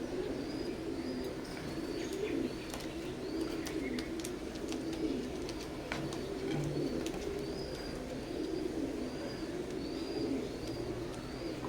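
A pair of teddy pigeons of imported Oman bloodline coo repeatedly in soft low rolling calls, close and steady, with faint chirps and light clicks in the background.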